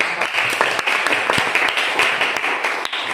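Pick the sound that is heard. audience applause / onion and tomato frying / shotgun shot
audience applause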